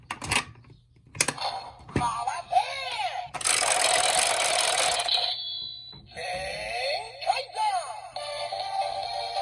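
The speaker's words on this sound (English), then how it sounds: "So it says Zenkaiger, and that's a little dubstep standby thing going on." A DX Geardalinger toy from Kikai Sentai Zenkaiger with the Zenkaiger gear inserted: sharp clicks, then an electronic voice announcement and a looping, warbling dubstep standby tune with wobbling synth tones.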